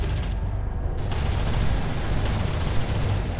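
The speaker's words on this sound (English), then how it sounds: "Strike craft taking effective fire." Strike craft gunfire in Homeworld: Deserts of Kharak: a steady, loud rattle of rapid automatic shots over a continuous low battle rumble, with a brief dip partway through and no talking.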